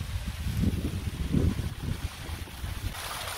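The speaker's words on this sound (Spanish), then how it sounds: "Pequeñas caídas de agua, de las que me gustan a mí" Small waterfalls on the Río Verde near Otívar, Granada, splashing into pools in a steady broadband rush, with low rumbling surges and some wind buffeting on the microphone, no voices.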